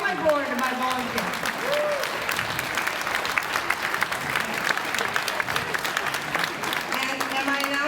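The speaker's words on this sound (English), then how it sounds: "So I want to give my board and my volunteers applause." A comedy show audience applauds the host's board and volunteers, a steady dense clatter of clapping running throughout with murmured voices and chatter mixed beneath it.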